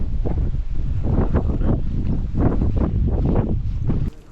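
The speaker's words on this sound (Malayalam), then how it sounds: "ഒരു രക്ഷയില്ലാത്ത കാറ്റ്" Strong gusting wind on Agasthyarkoodam mountain buffets the microphone in loud, rolling surges of low roar for several seconds, dropping off abruptly at the end; no voices.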